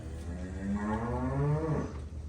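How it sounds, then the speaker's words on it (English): A mother cow lowing to her newborn calf on a farm after a blizzard, a close, steady, low-pitched moo running about two seconds with a harmonic rise and fall, and no talking. "in the background you can hear that the other mama is giving low moos to her"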